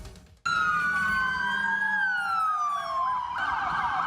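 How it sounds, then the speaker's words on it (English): An ambulance siren wails loud and close with police cruisers following, its tone sweeping slowly up and down before switching to a faster warble near the end, all without any talk. "Police cruisers follow an ambulance on its way to Nebraska Medicine"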